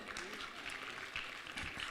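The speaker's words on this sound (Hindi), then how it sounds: "उनको भी ज़ोरदार तालियां।" Audience applause at the opening ceremony of Netrakumbh 2021 in Haridwar, heard as a steady, dense wash of clapping that carries through the whole moment at a moderate level.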